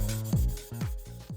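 Fine 600 or 1000 grit sandpaper worked over a plastic model car body, giving a few quick rubbing strokes in an uneven rhythm, close and fairly quiet.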